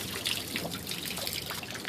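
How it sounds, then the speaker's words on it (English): Water trickles and drips steadily from the propeller of a Yamaha 250 HPDI outboard motor just after the flushing hose is shut off, a soft continuous close-up dribble with no talk. "some water still running out the prop there"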